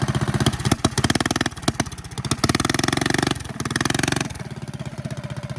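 A 270cc stage 2 go-kart engine revving hard under throttle, loud and close, with rapid sputtering bursts that rise and fall between brief drops toward idle, running throughout with no voices.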